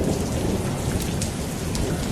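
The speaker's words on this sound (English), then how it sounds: "You're telling me it's raining that hard in your house?" Heavy rain pours down without a break, dense and roaring, with faint rumbles of thunder mixed in, then cuts off abruptly at the end.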